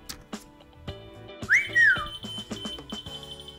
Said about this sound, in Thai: แล้วก็ผิวปากเรียกมาอีกรอบนึง